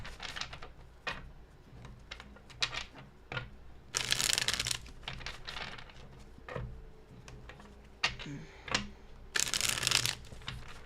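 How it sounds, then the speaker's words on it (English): Tarot cards shuffled repeatedly, with short taps and several louder riffling bursts, close and moderately quiet, no talking. "let me just get a few more shuffles in"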